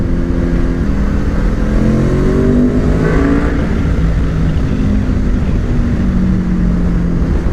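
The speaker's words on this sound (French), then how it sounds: "Donc je me mets en 3, 5000 tours, donc on va sûrement avoir le VTEC qui va se déclencher." A Honda VFR 800 motorcycle pulls hard in third gear from around 5000 rpm as the VTEC engages, its loud, steady engine roar rising continuously in pitch, heard close with heavy wind rush.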